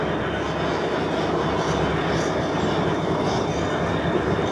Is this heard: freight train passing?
yes